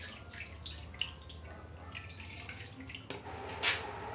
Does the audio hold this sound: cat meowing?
no